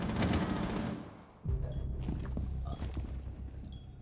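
Gunfire in the tactical shooter Rainbow Six Siege, a loud rapid burst of automatic shots up front followed by quieter scattered shots and thuds.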